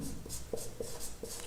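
Marker or chalk writing on a board during a chemistry lesson, short scratchy strokes repeating in a quick steady rhythm, close and clear with no talking over it.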